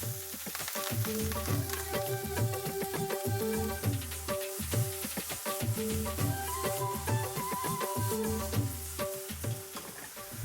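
Onions and chilies frying in about three tablespoons of olive oil in a non-stick pan over medium heat, a steady close sizzle with rhythmic stirring scrapes over a music bed.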